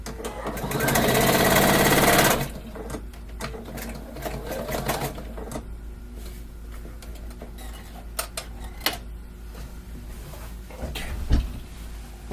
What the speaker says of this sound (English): Let me go sew this here real quick.